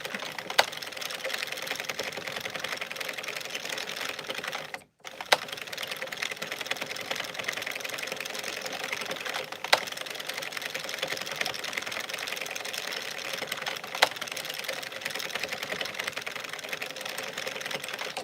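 An Addi knitting machine runs in steady, continuous mechanical clatter with fine rapid ticking, close and even. There is one brief pause, then the same constant whirring patter continues.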